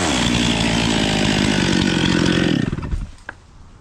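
A chainsaw runs at a steady, loud roar during tree work high in the rigging, then winds down and cuts off, leaving a faint quiet tail.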